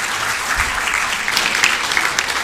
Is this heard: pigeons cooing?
no